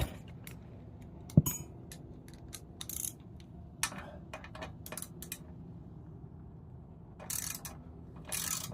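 A wrench ratchets in short, quiet bursts while removing the muffler bolts from a Powerhorse 208cc engine, with clicking pawl runs, a sharp metallic clank and scattered tool handling close by.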